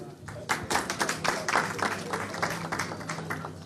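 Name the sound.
audience applause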